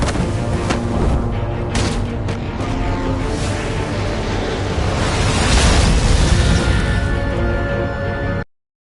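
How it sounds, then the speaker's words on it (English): A sustained explosion roars through a Batman video game, a dense loud rumbling blast with crackling debris lasting several seconds before cutting off abruptly. "Use a Riddler's trap to protect Iman and myself from the explosion"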